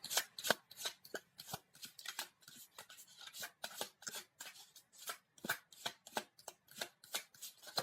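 Tarot cards shuffled close up in a continuous run of rapid riffles and soft slaps, steady and rhythmic, with no talking.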